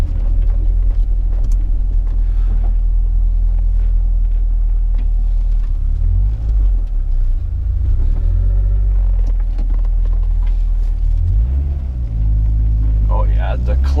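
A turbocharged Honda Prelude with a slipping clutch drives on the road, its steady loud engine rumble and road noise filling the cabin, with the engine note shifting partway through.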